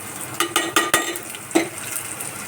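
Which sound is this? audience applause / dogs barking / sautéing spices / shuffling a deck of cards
sautéing spices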